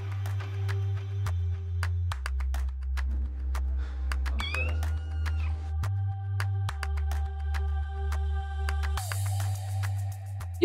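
A tricolor female cat at an animal shelter meows repeatedly, clear close mewing calls rising over a steady low hum, with no talk.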